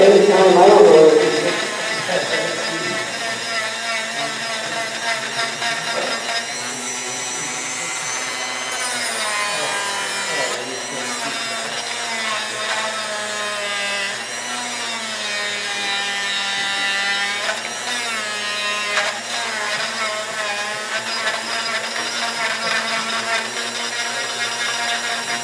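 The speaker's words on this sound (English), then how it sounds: "take my Dremel with the saber tooth bit on it" A Dremel rotary tool with a saber tooth bit cuts into wood, a loud continuous high whine with grinding rasp that wavers slightly as pressure changes, with faint talk beneath.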